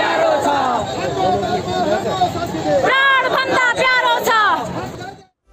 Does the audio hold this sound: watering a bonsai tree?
no